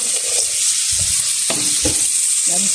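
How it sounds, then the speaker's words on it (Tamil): Butter sizzles steadily in a pan while rava laddu is made in a village kitchen, a continuous bright hiss with a few soft stirring scrapes and knocks against the pan. "சட்டியில் பட்டரை போடுவோம்."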